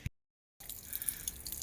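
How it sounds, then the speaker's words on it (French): Grey water from a motorhome waste tank, holding dishwashing and shower water, pouring out in a steady close splashing stream after a short silent gap. "On vide la cuve, les eaux usées, la vaisselle, la douche, salle de bain."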